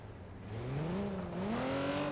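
A car engine revs in a racing video game, a faint rising and falling whine that climbs in pitch as the car accelerates, continuous throughout.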